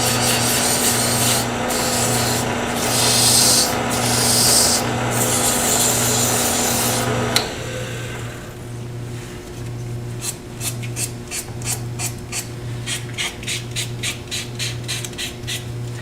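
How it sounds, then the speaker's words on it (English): Close, steady rubbing of 220-grit sandpaper against a turned wooden bottle stopper spinning on a lathe, with the lathe's hum beneath; the sanding grows lighter and more intermittent after about seven seconds, breaking into short scratchy strokes. "Sand it. And last is my 220."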